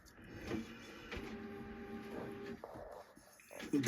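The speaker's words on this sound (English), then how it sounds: "my printer is supposed to take forever now" A home printer running through a print job: a steady mechanical whir and hum with shifting tones, a few soft clunks and a louder rattle at the end, alone and close by.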